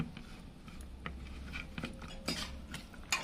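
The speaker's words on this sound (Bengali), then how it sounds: "সব মশলাগুলো ভালোভাবে মিশিয়ে নিব।" Turmeric and cumin powder being stirred with a utensil in a pot for a sea-fish curry, light scraping and clinking metal taps scattered irregularly, close and quiet.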